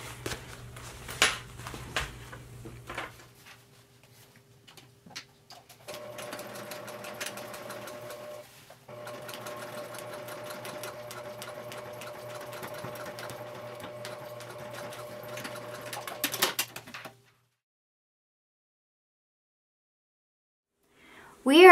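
A sewing machine top-stitches a mason bag with the zipper opened all the way. The machine runs in a steady whirring stretch of about eleven seconds, with a brief pause in the middle. It then stops, leaving near silence.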